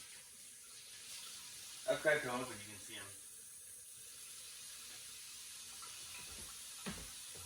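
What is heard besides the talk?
tap water running into a kitchen sink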